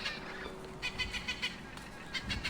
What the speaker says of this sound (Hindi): और अचानक से वहाँ एक तोता आ जाता है